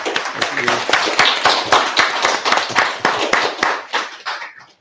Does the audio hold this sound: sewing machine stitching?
no